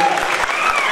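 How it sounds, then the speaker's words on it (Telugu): A loud, short burst of audience applause at a public gathering, dense clapping from many hands, with a voice faintly mixed in. "దయచేసి చప్పట్లు కొడితే చాలా సంతోషం ఉంటుంది"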